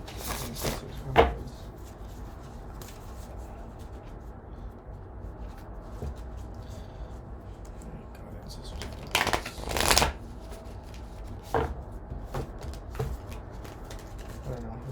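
Tarot cards are shuffled by hand for a reading, with quiet riffles and a few sharper bursts of card slaps, close and intermittent against a soft background.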